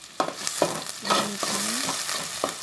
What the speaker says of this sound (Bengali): গুঁড়ো মাছের জন্য সরষের তেল দিয়ে দিলাম পেঁয়াজ কুচি দিয়ে দিলাম